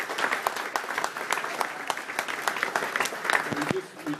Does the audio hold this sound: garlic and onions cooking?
no